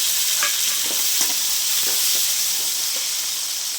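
Onion and tomato sautéing in a pan with rock salt, a steady loud sizzle and hiss with occasional soft stirring scrapes of a spoon, no voices.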